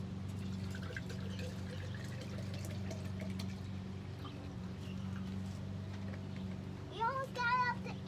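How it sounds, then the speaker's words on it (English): Water poured slowly through dirt into mason jars as a filtration demonstration, a soft continuous trickle under a low hum, with a voice briefly near the end. "we're gonna put 3 cups or 24 ounces of water through the dirt"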